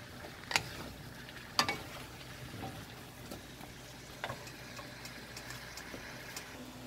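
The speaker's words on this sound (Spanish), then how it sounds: "Ahorita la vamos a dejar que se sofría bien." Squash gently sautéing in butter in a pan, a soft steady sizzle running throughout, with a couple of sharp utensil clinks and stirring scrapes near the start and a low background hum.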